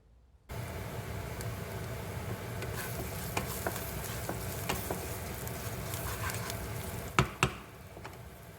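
Onions frying in a pan with ground cumin, coriander, turmeric and chili powder, being stirred: a steady sizzle throughout with a few sharp scrapes and clinks of the spoon near the end.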